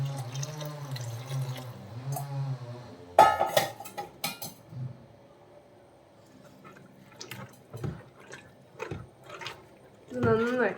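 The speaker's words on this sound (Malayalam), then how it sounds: "ഗ്രേവിക്ക് ആവശ്യത്തിനുള്ള വെള്ളം ഒഴിച്ചു കൊടുക്കാം" Warm water poured into fish curry gravy in a pan, splashing and clinking of utensils heard in bursts, with a voice talking at the start.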